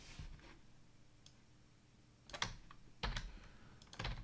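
Keystrokes typing code on a computer keyboard, sparse and irregular at first, then firmer bursts of clicks later on, close by with no talk.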